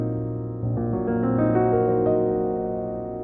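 Gospel jazz piano playing a minor six chord on the four, voiced as layered, sustained notes that ring together and fade slowly. Solo piano, close and clear, with no talking.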